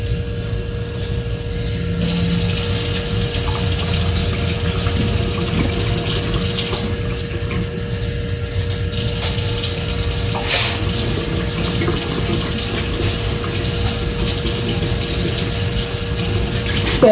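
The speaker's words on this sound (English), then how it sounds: "tap water, let it run" Water runs from a kitchen tap while dill pickles are being canned. It is a continuous, fairly loud gushing stream with small shifts in flow and no talking.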